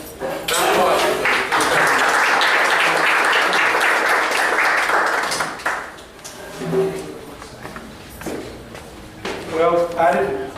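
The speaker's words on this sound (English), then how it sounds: "Round of applause." An audience gives a round of applause, a burst of clapping that lasts about five seconds and then dies away, followed by footsteps and quiet voices as someone comes up.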